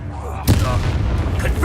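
A single spell bursts out in a video game with a sharp, loud boom-like impact partway through, followed by a rumbling tail and faint game sounds.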